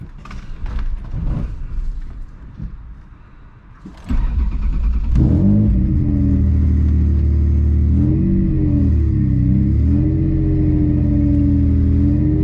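A Ford Taurus engine starting: clicks and cranking give way to an abrupt catch, then a steady mid-pitched idle that rises and falls through a few revs, loud and close, with no talking.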